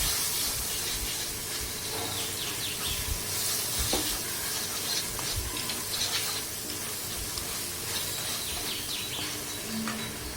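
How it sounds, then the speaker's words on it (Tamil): Continuous sizzling and crackling of spices and garam masala sautéing in hot oil, steady and close, with occasional stirring scrapes and no voices. "இதெல்லாம் இந்த ஆயிலே நல்லா வதக்கிக்கலாம்."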